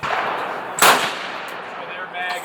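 An IO AK47 rifle is test fired, a single sharp report standing out briefly over steady outdoor background noise.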